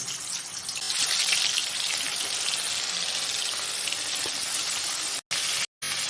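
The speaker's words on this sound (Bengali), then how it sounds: "তো তেল গরম হয়ে গেছে, এবার নুন হলুদ মাখানো মাছগুলো আমি ভেজে নেব।" Rohu fish pieces rubbed with salt and turmeric dropped into hot oil, giving a loud, continuous hiss and spatter of frying that carries steadily, then cuts out abruptly twice near the end, with no voices.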